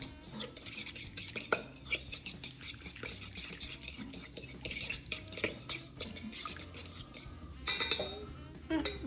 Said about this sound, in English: Give that a little stir. Fork to really work that garlic around.